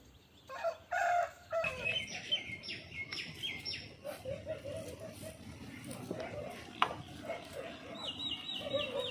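A fighting rooster crows loudly near the start, followed by bird chirps and clucking, with people talking through the rest.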